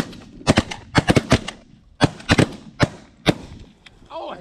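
Shotgun blasts during a goose hunt, about ten sharp, loud reports in irregular clusters, some in quick doubles and triples, fired close by with a little faint talk between volleys.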